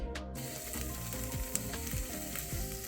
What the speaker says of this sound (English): Heating up the sausage